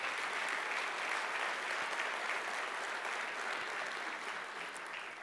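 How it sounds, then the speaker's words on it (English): An audience at a city's State of the Union-style address applauds steadily, a dense wash of clapping that carries evenly throughout and tapers only slightly toward the end. "Give them a round of applause."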